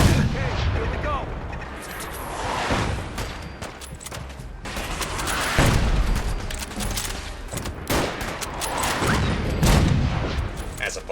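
Mortars and Enfield rifle fire in a fierce battle in the video game Fallout 4, dense overlapping booms and sharp gunshots throughout, loud and continuous with distant and near impacts.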